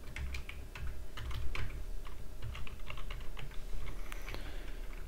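Rapid computer keyboard typing with clustered keystrokes and short pauses, including a Ctrl V paste shortcut, close and fairly loud over a steady low hum, no voices.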